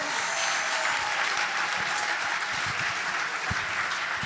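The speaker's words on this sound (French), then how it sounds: "Oh, acclame plus fort que ça." An audience applauding at an evening event in Geneva, a dense, steady wash of clapping from many hands that holds at even loudness throughout.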